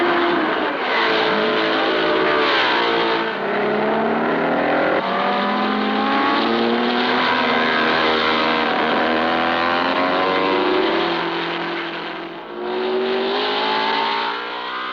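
Race cars at the 1962 Le Mans 24 Hours, a loud continuous engine roar with rising and falling revs as cars pass and accelerate, brief dip near the end.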